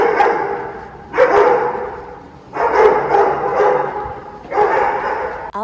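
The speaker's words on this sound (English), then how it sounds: "don't get me started on these dogs" Dogs barking in bursts around an LA loft apartment, three loud volleys of close, harsh barks separated by brief lulls.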